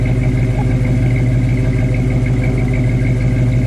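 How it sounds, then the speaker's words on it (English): A 1978 Plymouth Volare Super Coupe's 360 V8 engine with dual exhaust runs steadily with a deep, throaty rumble, loud and close, holding an even idle with no revving or voices. "Let's show them what 360 sounds like."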